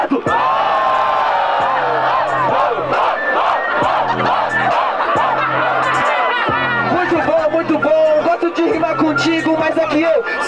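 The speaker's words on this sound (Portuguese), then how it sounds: "Geral grita pro meu improvisado." A rap battle crowd shouts and cheers at full volume throughout, a dense wall of roaring voices and whoops with a beat running underneath.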